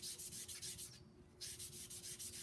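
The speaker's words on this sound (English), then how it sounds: "then you can further hone that point on the finer sandpaper" A sharp point being honed on fine belt sandpaper clipped to a clipboard, making quiet rhythmic rubbing strokes with a short pause in the middle.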